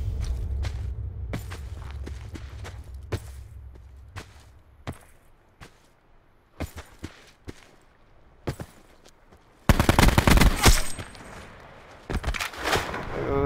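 In Call of Duty: Black Ops 4 Blackout, scattered sharp cracks and footstep-like ticks give way to a loud, close burst of gunfire in the last few seconds, then a second flurry of shots.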